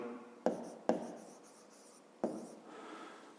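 Chalk or pen writing by hand during a fifth-grade math lesson on squares, a quiet scratching with three sharp taps as strokes begin, no talk.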